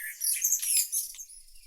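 A small bird gives a quick run of high, thin chirps and tweets, close and clear, with no talking.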